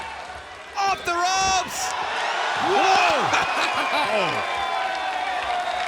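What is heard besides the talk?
wrestling crowd cheering and applauding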